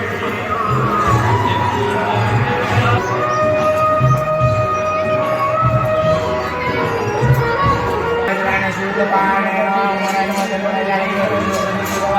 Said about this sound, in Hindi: ये भीड़ हो रही है।